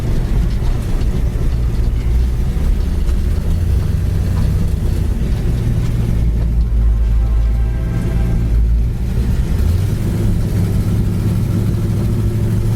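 A red 1968 Pontiac Firebird with a 455 V8 cruises down the road, its engine a loud, steady low drone heard from inside, with a slight shift in pitch near the end and no speech.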